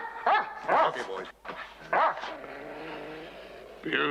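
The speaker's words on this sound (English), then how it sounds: "Beautiful dogs." Dogs in a home setting give several sharp barks and whimpering yips in short bursts close by, with quieter indoor background between them.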